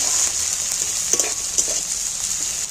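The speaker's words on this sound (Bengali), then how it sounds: "এইবার আমি পেঁয়াজগুলো দিয়ে দিই পেঁয়াজগুলো ভালো করে একটু" Onions frying in a pan with whole cumin, a steady close sizzle with a few light stirring clicks and scrapes, no voices.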